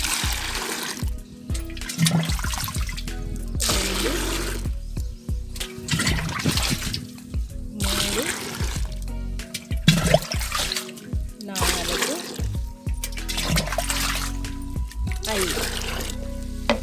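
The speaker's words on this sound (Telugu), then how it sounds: "ఒక మగ్గు లిక్విడ్ ఫర్టిలైజర్కి ఐదు మగ్గుల వాటర్ అనేది యాడ్ చేసేద్దాము" Water is poured and splashes into liquid fertilizer in repeated mug-sized bursts, separated by short pauses, close by, with a voice speaking between pours.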